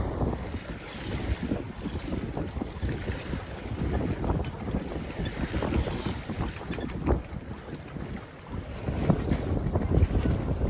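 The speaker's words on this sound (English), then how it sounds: "It's windy today." Strong wind of 12 gusting to 20 buffets the microphone with a continuous roar, water sloshing around a moving boat underneath, gusty and close.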